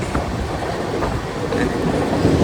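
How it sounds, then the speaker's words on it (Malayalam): A train rumbles steadily past close by, a continuous loud roar of wheels and cars on the rails with no voices. "ട്രെയിൻ ഇങ്ങനെ പോകണണ്ട രസമാണ് കാണാൻ"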